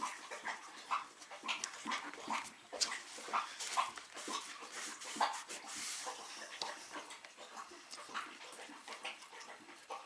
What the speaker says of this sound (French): j'ai un chien très bruyant. Quand elle boit, elle fait un bruit d'ogre.